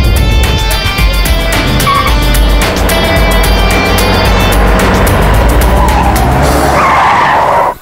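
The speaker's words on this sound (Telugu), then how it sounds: "సార్, మేము ఆ కారు వెనకాలే వెళ్తున్నాం." Car noise from a taxi chase on a city road: a fast car roars by and its tires squeal and skid hard, loud and close, with engine rumble underneath throughout.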